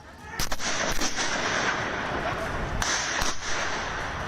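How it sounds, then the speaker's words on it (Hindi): A daytime shootout in which both sides fire continuously, heard as several sharp, loud gunshot cracks spaced irregularly over a steady noisy background, with some voices present. "लगातार गोलियां चलाई गईं।"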